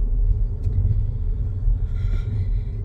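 A car engine idles low and steady at a stop sign during a driving lesson, a close, muffled rumble heard from inside the cabin with no talking.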